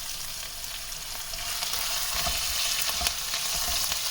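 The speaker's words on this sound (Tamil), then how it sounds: "இதோடைய பச்சை வாசனை போகிற வரைக்கும் நல்லா வதக்கிக்கலாம்." Chopped ginger and green chillies sautéing in an oiled pan, a steady close sizzle with occasional stirring scrapes, no talking.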